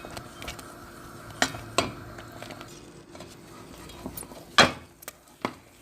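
A spoon stirs semolina for egg halwa in a pan over low flame, with scattered scraping and knocking against the metal and a soft sizzle, several sharper clanks standing out close by.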